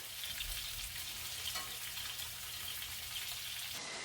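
Garlic frying in a small pad of butter gives off a continuous, close, even sizzle with no pauses and no voices.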